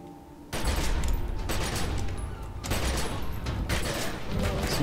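Rapid bursts of gunfire ring out in The Secret World, dense volleys broken by a brief pause, loud and close, with game sound effects mixed in and no one talking over them.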